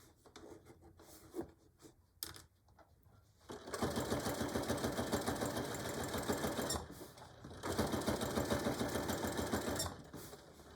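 A sewing machine runs a straight seam along a beach or diaper bag, steady rapid stitching in two long bursts after some quiet handling noises, close and loud.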